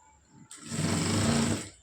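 A sewing machine stitches the lining of a blouse in one short, steady, close burst of motor whir lasting about a second, starting abruptly after a quiet moment.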